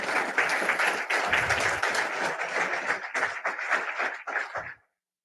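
A steady round of applause from an audience at a talk honouring the priest Ismael Moreno, dense and lively for about five seconds before stopping abruptly.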